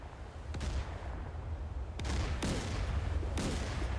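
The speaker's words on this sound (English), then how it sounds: "Let's get a slow motion shot of this gun firing" Arleigh Burke destroyer's naval deck gun firing on the cruiser Moskva in the DCS World combat game: several loud, sharp booming shots about a second apart, each with a rumbling tail over a steady low background, no talk.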